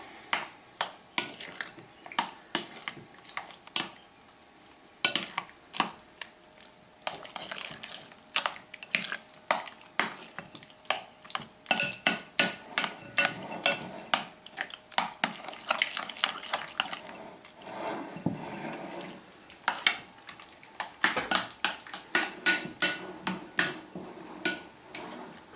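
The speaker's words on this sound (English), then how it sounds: "Let me get all that mixed real well." Cream cheese and other crab dip ingredients being worked together in a bowl, producing irregular close clicks, taps and soft squelches from the utensil in uneven bursts, with no talking.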